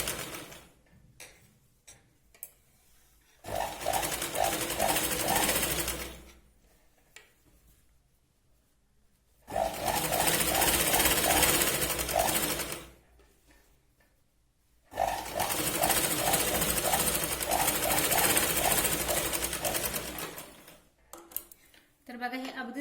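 A sewing machine stitches along the folded strip of a katori blouse in three sustained whirring runs of steady rapid needle ticking, with someone talking in the quiet gaps between them.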